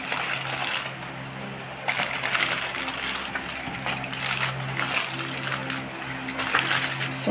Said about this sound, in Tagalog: At ito po ay ibalot ko dito sa aking foil.